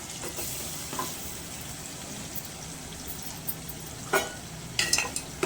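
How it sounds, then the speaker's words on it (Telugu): Goat head meat fries in a pan with tomatoes, giving a soft steady sizzle close by, broken by a few louder scraping stirs and clinks toward the end. "మటన్ తలకాయ వేసుకుందాం"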